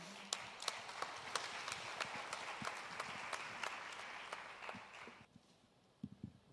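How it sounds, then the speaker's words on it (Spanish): Light audience applause in a university auditorium, faint and fairly distant, with scattered individual claps standing out before fading into a quieter room with a few final claps. "les agradecería un aplauso por favor a Tomás Sanabria"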